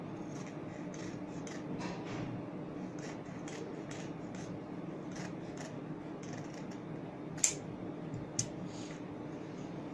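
Scissors snip through fabric along marked lines, making faint, irregular crisp cuts over a low steady background hum, with a couple of sharper clicks late on.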